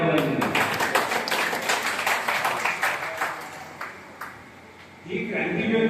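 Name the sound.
audience applause at a public event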